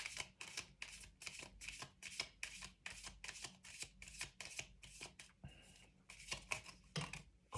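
Tarot cards riffled and shuffled by hand in a steady run of quick, crisp bursts, close and fairly loud, with no talking.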